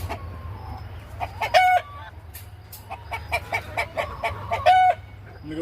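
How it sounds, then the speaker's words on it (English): A flock of mature chickens on a farm gives several sharp rooster-like calls and squawks in short bursts over a steady low hum, with quieter clucking between them. "Have you guys ever seen full-size chickens before?"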